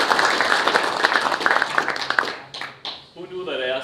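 Audience applause at a local roads workshop, a broad wash of clapping that carries on steadily, then thins out toward the end as a voice begins speaking.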